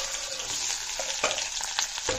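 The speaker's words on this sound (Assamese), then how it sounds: "পিয়াজখিনি ভাজি থাকো" Onions frying in a pan give a steady close sizzle with small crackles and stirring scrapes throughout, and no one speaks.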